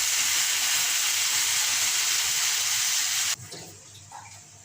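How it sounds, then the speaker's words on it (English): Water poured from a tap or jug into a pan of meatball sauce, a steady loud hissing splash for about three seconds, then stopping abruptly and leaving faint kitchen sounds. "Add some water"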